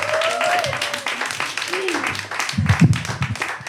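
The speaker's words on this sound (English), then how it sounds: "give her a round of applause" Audience applause and clapping for a comedian at a stand-up comedy show, a dense steady patter running beneath a speaking voice throughout.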